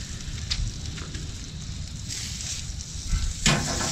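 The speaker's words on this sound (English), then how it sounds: "if you can hear it sizzling, the bacon's really coming along." Steady crackling sizzle of bacon wrapped around whole jalapeños frying on a hot grill, continuous and close, with a few sharper pops and snaps.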